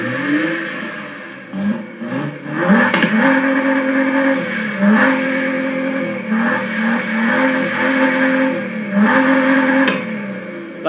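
Sturmkind DR!FT Racer toy car playing a simulated engine sound tuned to 750 brake horsepower, loud high-revving tones that rise and fall in repeated throttle bursts with gear-shift steps, close and with no talk.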